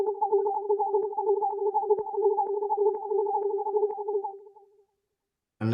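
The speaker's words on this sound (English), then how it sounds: "Some arpeggiated sounds." A buzzy synthesizer pulses in a quick, even run of repeated notes for several seconds, then stops abruptly, followed by silence.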